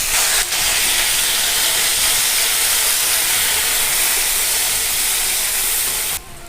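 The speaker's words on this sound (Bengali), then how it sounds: "সামান্য সরিষা আর কালো জিরে দিয়ে আমি একটু ভেজে নেব।" Mustard seeds, black cumin and onion fry in a hot pan for a Bengali shrimp and taro stolon curry, giving a loud, steady sizzling hiss that runs unbroken for several seconds and drops off at the very end.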